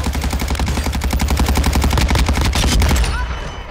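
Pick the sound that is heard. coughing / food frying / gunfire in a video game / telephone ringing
gunfire in a video game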